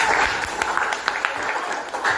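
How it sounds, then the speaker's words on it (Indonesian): Students clapping in a classroom, a short burst of many hands at moderate loudness, fairly close, with a busy room hum underneath. "Iya, tepuk tangan dulu dong."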